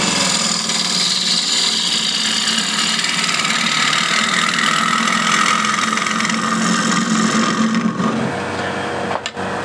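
A bowl spinning on a wood lathe while an asymmetric grind bowl gouge cuts the hollow, a steady close whirring hum with a rough cutting hiss throughout, then a brief break and a sharp knock near the end.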